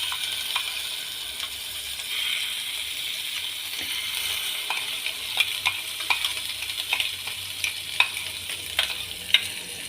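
Onion chutney sizzles in a pan of mustard seed tempering, a steady soft hiss broken by sharp crackling pops that grow more frequent and louder toward the end.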